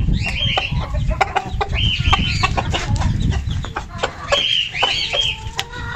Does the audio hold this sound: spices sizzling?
no